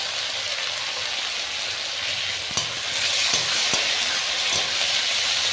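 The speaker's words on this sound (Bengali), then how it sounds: "পেঁয়াজগুলো দিয়ে দেবো। সুন্দর করে একটুখানি ভেজে নেব।" Onions and tomatoes hiss and sizzle steadily in a hot pan, close and fairly loud, while a spatula scrapes and stirs them in a few distinct strokes.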